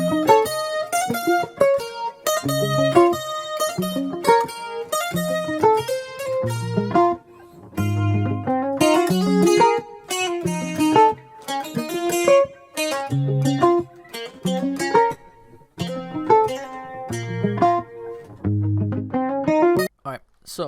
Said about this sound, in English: so to begin with, the guitar loop